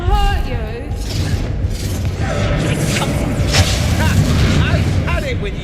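Bombarda and Confringo spell explosions in the Hogwarts Legacy video game form a loud, continuous stretch of booming blasts and crackling impacts, with spoken voices over the combat.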